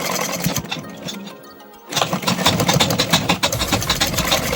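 Sewing machine stitching a kurta's fabric, a steady close whirring run that briefly slows and quiets, then resumes loud and continuous.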